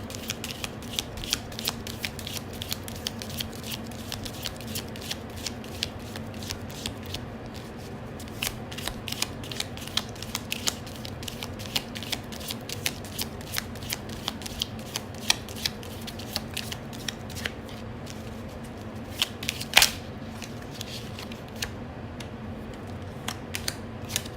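Tarot cards are shuffled by hand in quick, crisp riffling flutters and soft slaps, repeated close up at a fairly quiet level with a sharper snap near the end.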